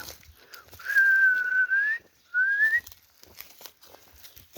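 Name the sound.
human whistling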